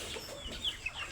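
Soft clucking and chattering from ducks in a farmyard, with a few brief higher calls standing out over a steady outdoor background.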